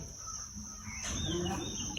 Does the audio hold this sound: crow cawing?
yes